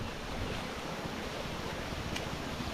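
Strong wind from typhoon Aghon roars steadily and close, a dense broadband rush that buffets the microphone without letup and carries no voices.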